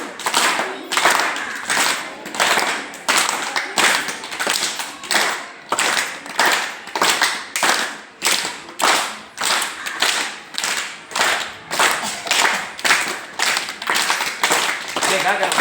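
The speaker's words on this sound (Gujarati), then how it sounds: "એક સાદી તાળી, એક લાડુ તાળી" A group of people doing a hand clapping game, alternating plain claps with cupped laddu claps in a steady rhythmic pattern, sharp and close, with voices counting and talking alongside.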